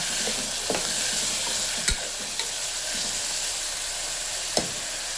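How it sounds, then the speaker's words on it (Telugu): Onions frying in a pan with curry leaves and coriander stirred in for a tomato gravy curry, a steady close sizzle broken by a few sharp spoon scrapes and clatters. "ఉల్లిపాయలు వేగుతున్నాయి."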